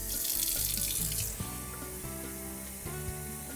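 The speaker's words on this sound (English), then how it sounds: "find the cold water setting on your sink and fill your cup up to the 1 cup mark" Cold water runs from a kitchen sink tap into a measuring cup, a steady close splashing hiss that is loudest at first and then settles into a softer, even pour.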